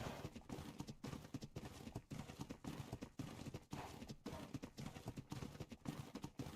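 A horse runs up a snowy mountain in the Ragnarok map of a survival game, its hooves clopping in a quick, steady, close rhythm that never stops.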